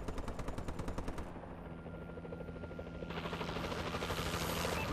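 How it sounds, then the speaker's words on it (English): In the online team deathmatch of Call of Duty: Advanced Warfare on Xbox One, an enemy warbird aircraft rumbles overhead with a steady rotor-like drone. Rapid machine-gun bursts fire at first, and the engine roar swells toward the end. "Enemy warbird above."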